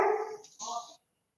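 A dog barks up close, two short loud barks in quick succession, cut off abruptly into silence.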